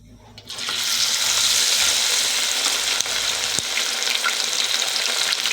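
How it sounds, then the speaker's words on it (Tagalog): After a brief quiet start, hot oil in a pan bursts into a loud, steady sizzle that crackles continuously up close, ready for frying fish. "Kumukulo na yung ating asete."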